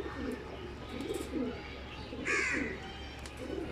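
Racing pigeons coo in a low, repeated rhythm nearby, with a brief sharper call partway through and faint outdoor background noise.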